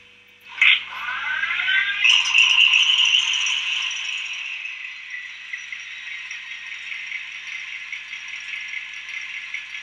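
Minitrix N-scale SNCF BB 22200 model locomotives start up with sound, giving a sharp click and then a rising electric whine and hum. A steady, fairly loud buzzing drone settles in and continues with faint rattles.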